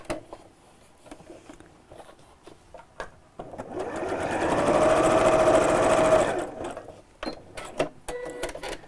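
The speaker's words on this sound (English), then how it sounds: "So you put the two edges of the seam together and then sew." Sewing machine stitching a fabric seam, running in a loud continuous whir for about three seconds midway, with lighter handling taps and clicks before and after.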